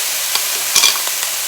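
Pork and scallions hit a hot pot for pho and sizzle loudly. A constant bright hiss sits close, broken by a few short clinks and scrapes of stirring.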